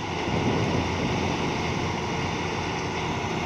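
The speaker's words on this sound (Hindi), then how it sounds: "थ्रैशर लगी हुई है माशाल्लाह।" A wheat thresher run by a tractor works a harvested field, giving a steady, dense mechanical roar and rumble that stays even and continuous throughout, with no voices.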